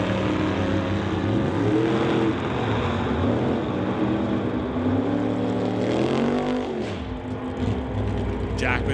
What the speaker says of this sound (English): Jackman and Downey fire down the racetrack.